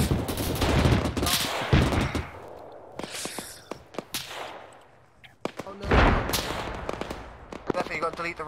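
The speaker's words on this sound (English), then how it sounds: "Oh, they're shooting at it. Their puny bullets have no effect." Enemy gunfire in the military shooter ARMA 3: a dense mix of sharp rifle cracks and rapid bursts, near and far, continuing throughout with a few heavier thuds and faint voices underneath.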